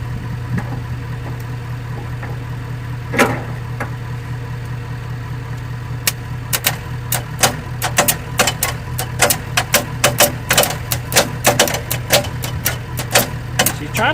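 The engine of a 1986 Ford Bronco cranks over with four spark plugs removed, giving a steady low drone, while a dense run of sharp clicks and clatters builds up over the second half.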